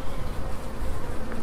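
Honeybees buzzing at an apiary, a dense steady swarm drone close to the listener, continuous for the whole moment with no voices.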